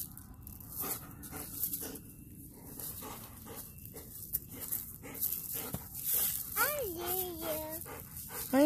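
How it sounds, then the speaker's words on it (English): Dogs whimper in high, wavering whines near the end, with close talk running throughout and some shuffling in the background. "The dogs wonder what's going on."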